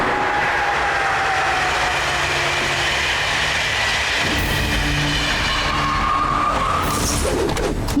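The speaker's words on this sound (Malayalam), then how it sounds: "അവര് ട്രെയിൻ എടുത്തുകൊണ്ട് മുകളിലേക്ക് പോവാണ്." An animated cartoon train climbs along its track with a loud, continuous rolling rumble and grinding screech, steady throughout with a brief tonal whistle-like squeal, no voices heard.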